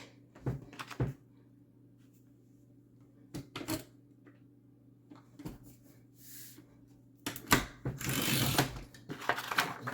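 A Carl paper trimmer cuts paper with short, sharp chopping and clacking strokes in separate bursts, ending in a longer rustling shear as the sheet is handled, close and fairly quiet against a low steady hum.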